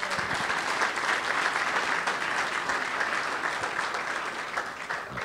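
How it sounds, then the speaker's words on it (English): Crowd applause at a political policy breakfast, a dense, even wash of many hands clapping that holds steadily throughout with only a slight fade near the end. "Y'all give them a round of applause."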